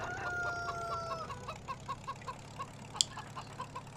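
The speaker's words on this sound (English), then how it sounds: "Oh, chickens." Chickens cluck in a quick, steady series of short clucks, fairly close, over low background rumble, with a sharp sound breaking in briefly near the end.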